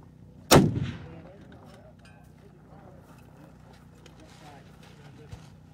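A single sharp, loud rifle shot cracks out at a long-range shooting competition and rings off in a brief decaying echo, followed by quiet background and a faint later knock.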